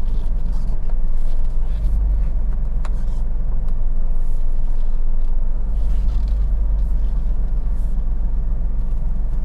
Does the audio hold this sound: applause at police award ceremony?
no